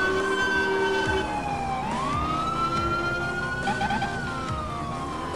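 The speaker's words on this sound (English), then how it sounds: "There's some ambulances up ahead" Wailing ambulance sirens in the video game GTA IV sweep up and down continuously over a steady engine rumble, several tones overlapping, fairly close and loud.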